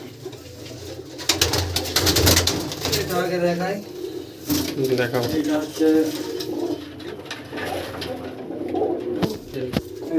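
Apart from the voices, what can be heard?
Punjabi tournament pigeons cooing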